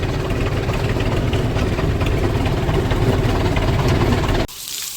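A tractor engine idles steadily with a deep, throbbing rumble, loud and close, then cuts off abruptly near the end.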